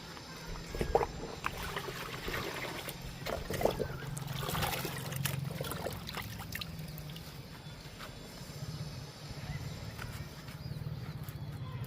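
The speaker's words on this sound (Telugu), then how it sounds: "ఈ లిక్విడ్ పోస్తూ శుభ్రంగా క్లీన్ చేయాలి చేత్తో అయితేనే పోతుందండి" Liquid is poured over a hibiscus plant and worked in by hand to clean off mealybugs, making a continuous close-up trickle and splash with intermittent wet rubbing sounds.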